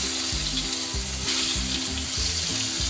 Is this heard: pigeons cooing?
no